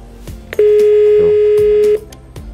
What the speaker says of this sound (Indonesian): Dan teleponnya ini yang bisa di speaker.